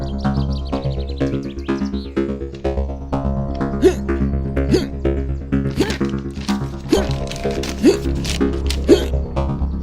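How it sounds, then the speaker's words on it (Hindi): A person hiccups in a Hindi-language love story action film, a series of short sharp hiccups repeating at a steady rhythm over a loud, continuous background score. "अरे क्या हिचकी आ रही है?"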